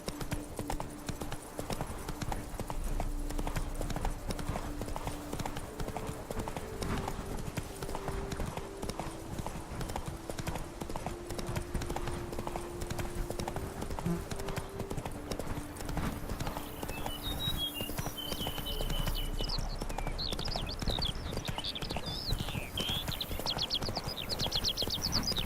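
Roach the horse gallops in The Witcher 3: Blood and Wine, her hooves drumming a steady, continuous clip-clop rhythm close by for the whole stretch, with faint game ambience underneath.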